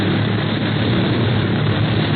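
Propeller airplane nosing into a dive in an old radio drama, a loud, steady droning engine roar filling the whole stretch without talk.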